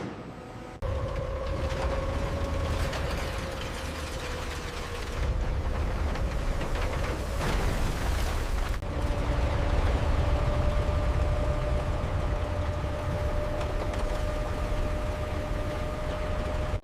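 Big Bertha, a giant tunnel boring machine, starts up underground with a dense, roaring mechanical rumble, a steady droning hum and scattered clanks, loud and continuous after a short quieter opening.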